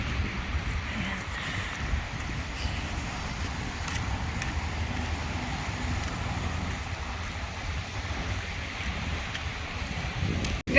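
Strong wind sweeps across Sylvan Lake in a continuous low roaring rumble, steady and broad with faint watery wash underneath, no voices.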